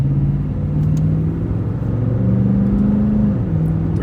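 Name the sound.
Lexus GX exhaust rumble with muffler delete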